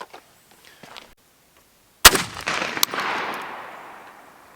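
A shotgun fires a Winchester Long Beard XR 20 and 40 turkey load during a patterning test: one loud, sharp blast with a short echoing tail, after a few seconds of quiet with faint small noises.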